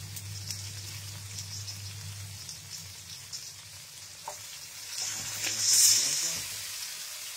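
Red bell peppers sizzle in a frying pan for frito mallorquín, a steady hiss and crackle that swells louder near the end, with no talking.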